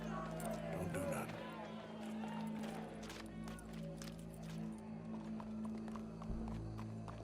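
Hooves clip-clop steadily on ground under a dense crowd murmur and a droning background in the Red Dead Redemption 2 video game, with voices talking over it.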